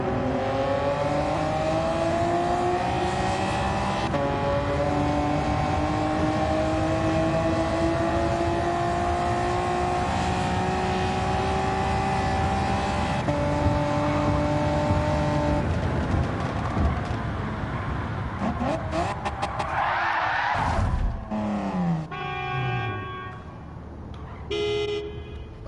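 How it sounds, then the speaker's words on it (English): Racing-game engine note of a 1992 Honda NSX in Gran Turismo 7, a loud sustained rising and falling drone with gear-shift steps, joined near the end by a sharp burst and a brief horn-like toot. "I'm gonna pick a Honda of all things, a Honda NSX from"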